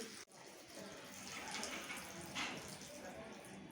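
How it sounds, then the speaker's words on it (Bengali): Water pours steadily into a pan of fried green jackfruit curry, a continuous splashing flow from start to end with a short break near the beginning. "পরিমাণ মতন জল দিয়ে দিচ্ছি"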